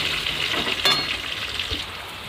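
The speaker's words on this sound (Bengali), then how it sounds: "এইদিকে এই যে কাঁকরোল ভাজা হচ্ছে, কাঁকরোলটা ভেজে নিই।" Pieces of teasel gourd fry in hot oil, a steady crackling sizzle with a sharper burst partway through and a few soft stirring clicks, close by and without talk.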